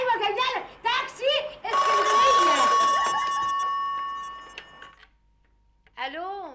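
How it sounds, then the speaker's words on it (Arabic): A telephone rings at home in a long, loud, steady electronic trill lasting a few seconds, with voices talking just before it and a voice speaking again after a short silence. "تليفون"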